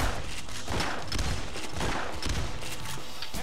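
Rapid gunfire fills a Payday heist shootout, with a dense run of overlapping shots and bursts throughout and no break in the shooting.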